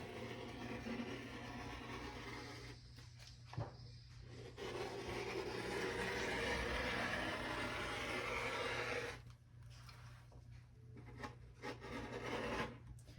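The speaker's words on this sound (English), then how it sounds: "now we're gonna cut this piece out" Scissors or a rotary cutter slicing through heavy coat fabric along a pattern piece, a steady close rasping cut that runs almost without pause, with a couple of brief breaks between strokes.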